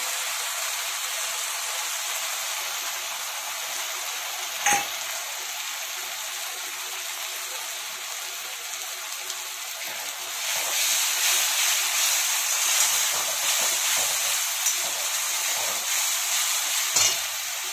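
A paste of ground onion, ginger, garlic and chili hits a pan of lightly fried onion for an egg curry, sizzling and frying steadily up close, with a couple of sharp utensil clicks and stirring over the constant hiss.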